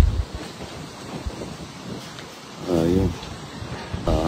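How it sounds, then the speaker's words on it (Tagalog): Strong typhoon wind roars and buffets the microphone in gusts on a farm, with broadband rushing noise and a voice speaking briefly in the background. "Lakas po ng hangin mga idol."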